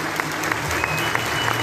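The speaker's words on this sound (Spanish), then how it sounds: "pues un aplauso a Noé" An audience at a public event for a state program launch in Pénjamo, Guanajuato, breaks into dense, steady applause, a continuous wash of many hands clapping at close range.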